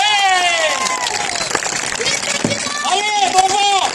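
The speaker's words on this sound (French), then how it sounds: "Applaudissez les pirates!" A crowd applauds during an outdoor equestrian falconry show in La Ciotat, with clapping and cheering under loud, excited speech from a presenter.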